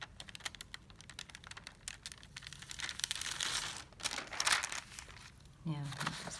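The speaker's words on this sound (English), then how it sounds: "We take the paper off." Paper peeled off an ironed polymer stamp gives a dry crinkling, tearing rustle that builds and fades over several seconds, close by, with a brief voice near the end.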